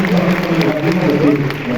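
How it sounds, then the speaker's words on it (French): A short burst of crowd clapping at a film presentation in the Grand Rex cinema, steady and fairly loud, with some voices mixed in. "Je pense qu'on peut l'applaudir un peu."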